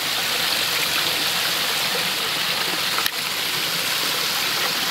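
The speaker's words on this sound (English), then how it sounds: "where the water discharges and comes cascading down" Water discharges from a biofalls filter and cascades down a rock pond waterfall outdoors, a steady, loud, unbroken rushing splash with no talk.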